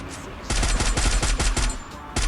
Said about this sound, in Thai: มีการยิงหลอกล่อเพื่อแบบ เบ่งเบนความสนใจในผมด้วย